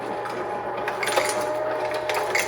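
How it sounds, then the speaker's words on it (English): A Jenn-Air Whirlpool refrigerator ice dispenser drops ice, giving a steady close rattling and clattering with small scraping bursts, heard on its own. "Ice dispenser's working."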